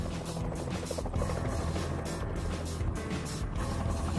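Helicopter powered by a gas turbine jet engine flying, a steady loud droning roar with dense low rumble and continuous turbine whine throughout.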